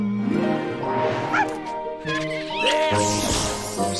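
A cartoon dog gives several yappy barks in quick succession, close and clear, mixed with animated voices.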